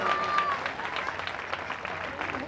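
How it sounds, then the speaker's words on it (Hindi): Audience applause during a Shrimad Bhagavat Katha religious gathering in a village, steady dense clapping throughout, with a brief sustained tone near the start. "जोरदार ताली की एक बार सेवा।"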